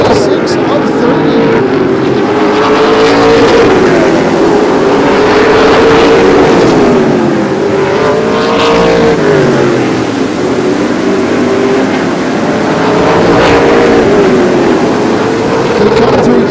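Pro Late Model race cars lap Flamboro Speedway, their engines rising and falling in pitch as they pass through the turns, loud and continuous with overlapping motor drones.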